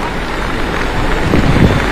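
Heavy monsoon rain pours steadily in a flooded low-lying area in India, a loud, dense, continuous wash of noise with no breaks.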